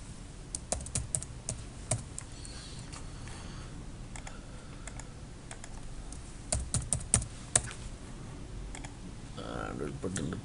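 Computer keyboard typing a password, a quiet run of close, irregular key clicks in short bursts with small pauses, faint and alone in a room.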